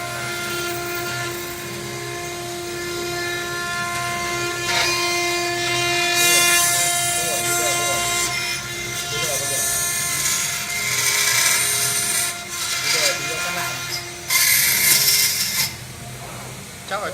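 A CNC 1325 engraving machine cutting stainless steel, a loud sustained tonal whine with strong harmonics and bursts of harsh hissing grind as the cutter bites, voices talking faintly underneath.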